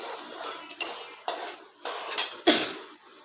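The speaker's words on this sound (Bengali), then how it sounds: "তেজপাতা ওই তেলেই দিচ্ছি, আর গোটা মশলাগুলো দিয়ে একটু নেড়ে চেড়ে" Dried red chili, bay leaf and whole spices are stirred in hot oil, with a few sharp clatters of a utensil striking the pan followed by brief sizzling hisses, close up and in a halting rhythm.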